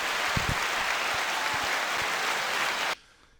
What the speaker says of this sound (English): is the applause sound from Mike Tyson's Punch Out